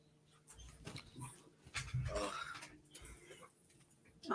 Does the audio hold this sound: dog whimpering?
yes